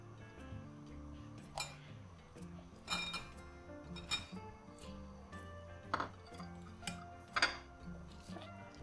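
Cauliflower for crispy gobi fry is mixed into masala in a pan with a utensil, giving quiet, intermittent clinks and scrapes of metal at an uneven pace, with no talk.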